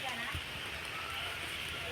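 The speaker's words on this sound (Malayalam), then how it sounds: "മഴ പെയ്യുന്ന" Rain falls steadily as a dense, even hiss across a garden plot, continuous and moderately close, with no break.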